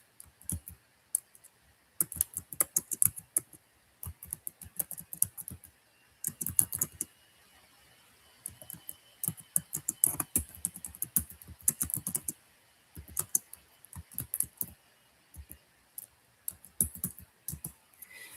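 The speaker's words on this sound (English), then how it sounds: "I'm going to type it into the chat." Close, crisp keystrokes on a computer keyboard come in quick bursts of rapid typing separated by short pauses, with occasional louder clicks and no voices.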